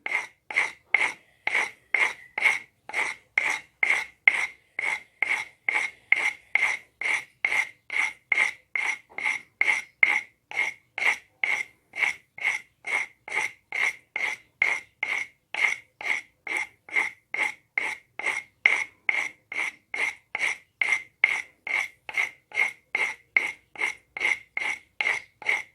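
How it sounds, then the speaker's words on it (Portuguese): Sandpaper worked by hand to round off an edge, a steady rhythmic rasp of about two strokes per second repeated evenly and close throughout, no voices. "vocês vão lixar dessa forma, né? Tirando a quina, certo?"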